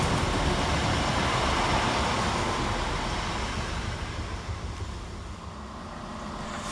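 Broad steady rumble of Chiltern Railways diesel passenger train 168001 arriving at Warwick railway station, loud at first and easing slightly as it slows.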